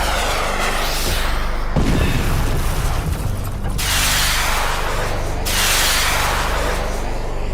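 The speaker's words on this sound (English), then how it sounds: "Cans in a microwave." Metal cans inside a running microwave oven spark and bang, giving loud crackling bursts of broadband noise and a sharp thump over a constant hum, with no talking.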